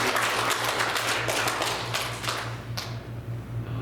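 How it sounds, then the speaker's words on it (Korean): A church congregation claps in praise during a Korean Sunday service, a busy patter of hands over a low steady hum, strongest early then thinning and fading out. "하나님께 영광의 박수를 올려드리시겠습니다"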